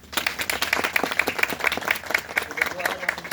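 Congregation applause at an Urdu-language church service, a dense steady patter of many hands clapping with rhythmic accents over about three seconds, a voice faintly audible underneath.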